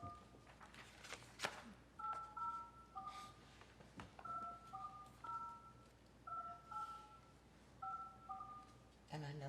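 A phone keypad beeps out a series of dual-tone digits in short rhythmic groups in a meeting room, with faint voices and room noise underneath.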